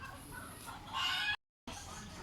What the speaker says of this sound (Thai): เสียงไก่ เยอะมากนะครับ เยอะมากครับไก่ ไก่นี่เยอะจริง ๆครับ